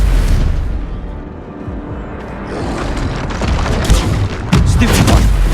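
Spell blasts crash and boom in Hogwarts Legacy combat, a dense run of loud explosive impacts and bursts with heavier hits near the end, spells like Confringo, Bombarda and Stupefy firing in quick succession.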